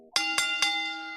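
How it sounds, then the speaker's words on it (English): A ring bell sound effect used to open a wrestling review show strikes three times in quick succession. Each sharp, metallic clang leaves a long shimmering ring, heard alone with no talk. "let's ring that bell"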